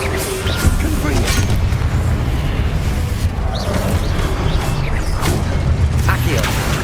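Confringo blasting spell in Hogwarts Legacy, a rumbling burst within a dense, continuous wash of game combat noise, loud and sustained with no clear single blast standing out.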